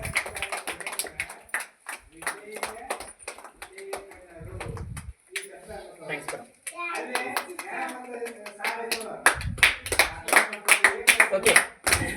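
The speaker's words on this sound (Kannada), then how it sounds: "ಅವರಿಗೆ ಚಪ್ಪಾಳೆ ಮುಖಾಂತರ ಸ್ವಾಗತ ಮಾಡಿಕೊಳ್ಳಿ" An audience claps to welcome a guest, a village Anganwadi worker, at a children's quiz show. Ragged, fairly loud applause with many overlapping hand claps runs through most of the stretch, briefly easing before swelling again.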